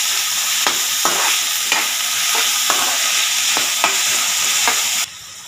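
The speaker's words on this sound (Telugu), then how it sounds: "ఈ ఉల్లిపాయ ముక్కలు వేసుకున్న తర్వాత ఒకసారి ఇలా కలుపుకోండి." Onion pieces fry in hot oil in a pan with a steady loud sizzle, while a spoon stirs them with regular scraping taps roughly every half second, no voices present.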